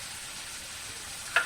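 Coriander and mint leaves with chicken sautéing in a pan, a steady soft sizzle with a brief louder crackle near the end.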